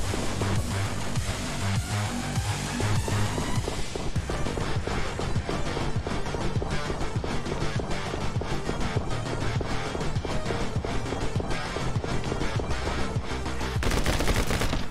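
Rapid, relentless gunfire from the action game My Friend Pedro, loud bursts and machine-gun volleys filling the whole stretch over driving music, with no talk.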